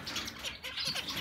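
Zebra finches, including black-faced birds, give a brief burst of soft, nasal chirps and tweets in close succession, moderately near and quiet, lasting about a second.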